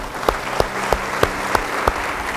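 Applause from a church congregation comes as slow, evenly spaced claps, six or seven distinct beats over a steady crowd murmur.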